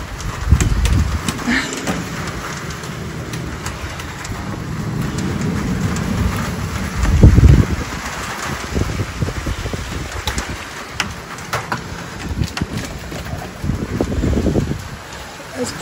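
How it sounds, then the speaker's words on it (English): Heavy rain pours steadily, with low rumbles of thunder rolling through and occasional voices underneath. "It's a big rain."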